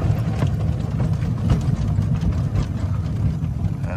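RRVT traction motor running with a compressor also on, as the throttle is increased: a steady, moderately loud low-pitched hum and drone, continuous throughout with faint mechanical rattles on top.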